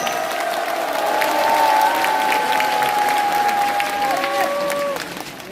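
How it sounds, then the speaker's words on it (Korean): Audience applause at an assembly in Busan, broad steady clapping held throughout at a fairly loud level with a tonal whine running over it, easing off slightly near the end. "박수."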